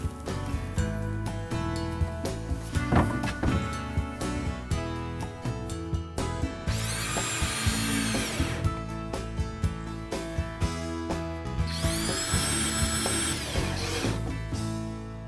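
Power drill fastening pre-cut ledger strips into an alcove wall for a Sterling Plumbing Lawson bath installation; two sustained whining drill runs stand out among shorter bursts and mechanical clatter, loud and close, with no talk.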